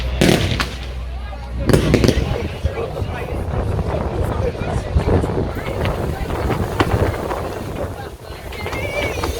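Fireworks display over St James in the City, Liverpool, with strobe effects crackling and popping continuously amid wind noise on the microphone, several sharper bursts standing out near the start.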